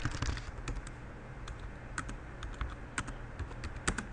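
Steady, close typing on a computer keyboard as a command is entered, with irregular crisp key clicks over a low background hum and no speech.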